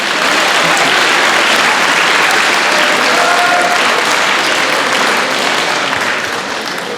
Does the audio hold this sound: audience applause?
yes